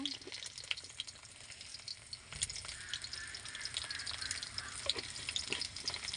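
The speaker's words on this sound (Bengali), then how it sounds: "একটু কালো জিরে ফোড়ন দেব" Garlic and nigella seeds tempering in hot oil, a quiet crackling sizzle with scattered pops and faint stirring clicks, fairly close but low in level.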